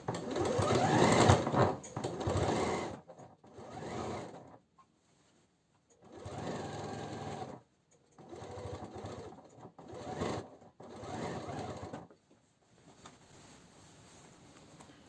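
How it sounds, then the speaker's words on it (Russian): A sewing machine topstitches a basted waistband on women's trousers, whirring steadily and close in several bursts of a few seconds each, separated by brief silent pauses. "Прокладываем отделочную строчку по заметанному поясу."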